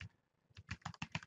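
Quick bursts of keystrokes on a computer keyboard, a short irregular run of close, crisp clicks after a brief pause.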